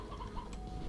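Chickens cluck in Slime Rancher, soft repeated clucks and faint ticks over a steady low game hum.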